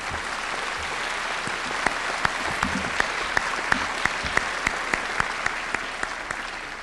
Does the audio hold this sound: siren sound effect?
no